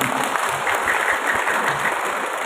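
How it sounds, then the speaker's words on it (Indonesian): An audience at an inauguration reception for the Tuban regency NU branch claps in a steady, dense burst of applause, close and sustained throughout the short stretch. "Saya boleh minta tepuk tangan untuk kita semua."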